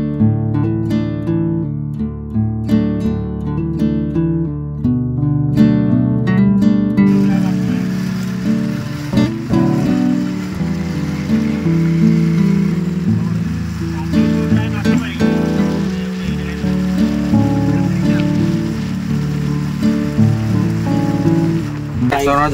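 Heavy monsoon rain pours steadily and loudly outdoors, a dense continuous hiss of drops on surfaces that lasts throughout, with music playing over the first part.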